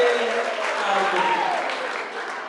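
Applause from wedding guests, a steady dense wash of clapping that holds throughout at moderate loudness, with a faint tonal sound drifting through it.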